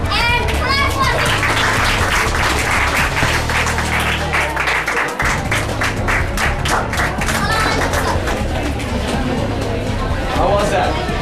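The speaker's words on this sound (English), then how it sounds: "Please come and clap for him." An audience claps for a teacher at a school debate, with loud, dense applause and cheering from a crowd of children. A bright descending tone and thumps sound partway through, and the noise stays high throughout.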